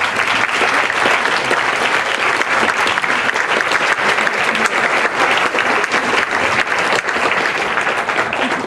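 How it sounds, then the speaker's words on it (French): Dense, loud applause from an audience at a Tibetan New Year celebration show in Lausanne, sustained and even for the whole stretch with no pauses. "je pense qu'on peut vraiment les applaudir"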